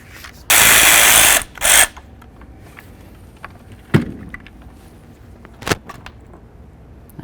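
A T30 bolt comes out of a 2005-14 Ford Mustang door with a loud, sustained ratcheting power-tool whir lasting about a second, then a shorter burst, followed by a few sharp clicks and clunks of metal parts. No talking.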